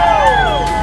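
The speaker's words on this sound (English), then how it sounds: "everybody scream. 1, 2, 3." A crowd on the shore at the Newport Beach Christmas Boat Parade screams together, a loud, sustained chorus of high voices sliding gradually downward over a short burst.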